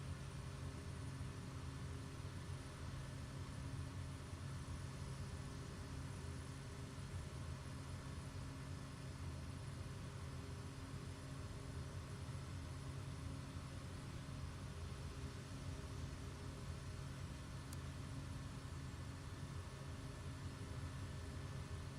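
A steady, low aircraft engine drone in Microsoft Flight Simulator 2020 hums on unchanged for over twenty seconds, fairly quiet and continuous, with no talking.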